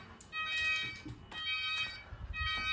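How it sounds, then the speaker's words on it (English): A Texecom Premier Elite intruder alarm keypad sounds its entry timer after the front door opens: a steady, close electronic beeping over light background noise, with no voices. "So open the front door, that starts the entry timer"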